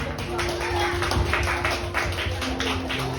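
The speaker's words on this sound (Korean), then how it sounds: "박수!" Children clap together in an elementary Sunday school worship service, a dense run of quick claps that fills the room, with voices and chatter mixed in throughout.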